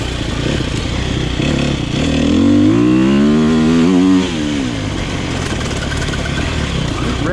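A 2020 Sherco 300SEF dirt bike engine revs up and falls back, a loud close buzzing roar that rises through one smooth rev before settling to a steady run.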